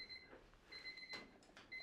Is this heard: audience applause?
no